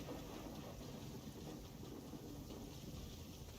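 Steady wash of rain and rumbling thunderstorm noise from the Genshin Impact video game, a dense continuous roar at low level with no distinct thunderclaps or voices.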